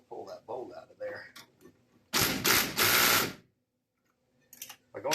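A socket wrench ratchets under a car while pulling a bolt on a steering rag joint coupler, one loud burst of rapid clicking in the middle, with someone talking before it and a few faint clicks afterward.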